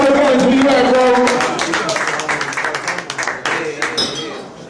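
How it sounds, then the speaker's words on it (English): Live audience at an Atlanta producers showcase claps and cheers loudly, dense applause at first and then thinning into scattered claps, with a voice speaking over it. "Keep it clapping."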